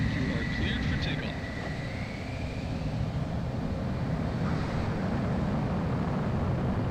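A fighter jet roars steadily during takeoff from an aircraft carrier in the flight game Ace Combat 4, a dense continuous engine and wind rush with a faint whine that holds for several seconds.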